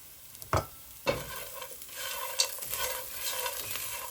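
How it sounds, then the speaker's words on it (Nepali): Gundruk, a fermented leafy green, being stir-fried with spices and chili powder in a pan: a few sharp spoon scrapes and knocks over a steady low sizzle, close and moderately loud, with no talking. "अब यसलाई चाहिँ 2 मिनेट जति मजाले भुट्नु पर्दछ, चलाउनु पर्दछ।"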